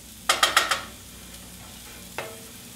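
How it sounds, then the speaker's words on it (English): Onions soften in a pan as a utensil stirs them, giving a quick run of four scraping strokes and then one more a moment later over a faint background sizzle. "Occasionally stir these onions. Make sure they get softened on both sides."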